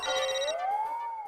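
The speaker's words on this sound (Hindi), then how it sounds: "फोन बज रहा है आपका।" A phone's electronic ringtone sounds once as a brief, clear tone that glides upward, fairly loud, with nothing else behind it, in a household comedy scene.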